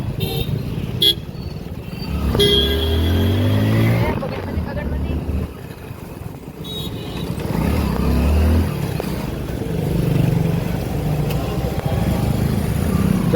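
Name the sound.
road traffic with motorcycles and cars on Mount Abu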